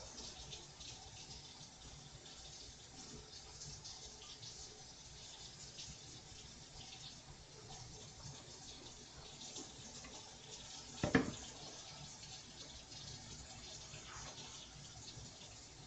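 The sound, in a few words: running hot water from a tap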